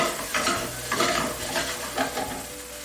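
Shrimp simmer in scampi sauce in a pan over lowered heat, giving a continuous close bubbling sizzle with soft, rhythmic stirring scrapes rising and falling every half second or so.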